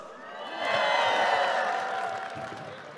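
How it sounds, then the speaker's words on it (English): A crowd at an esports grand final cheers and whoops, swelling after half a second and holding loud before slowly fading, with scattered clapping and voices mixed in. "Give both teams a round of applause for making it this far"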